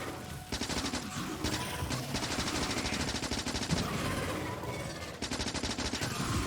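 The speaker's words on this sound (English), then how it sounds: "I guess I could shoot and throw grenades at the same time." Rapid automatic gunfire from the player in the Factorio strategy game shooting at alien spawners, long dense rattling bursts broken by brief pauses, loud and close.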